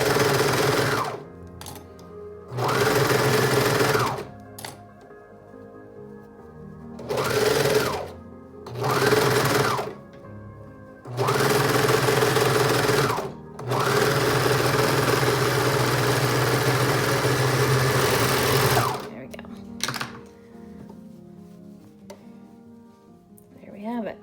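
A sewing machine stitching a gathered sleeve runs in several loud, close bursts of steady whirring, separated by short pauses, with a voice speaking between runs.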